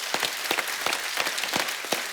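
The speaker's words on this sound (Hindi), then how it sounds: "हमारे जवानों के लिए एक बार जोरदार तालियां हो जाएं" A studio audience applauds on a television comedy show, a short burst of dense, fast clapping that holds steady and fairly loud, with no voices.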